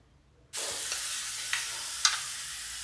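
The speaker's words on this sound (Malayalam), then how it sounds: "ഇനിയിപ്പോൾ വെളിച്ചെണ്ണയിൽ ചെറിയ ഉള്ളി വഴറ്റിയിടാൻ വേണ്ടത്" Small onions sautéing in coconut oil for a traditional Kerala curry, a steady close sizzle that starts abruptly, with a few soft stirring scrapes.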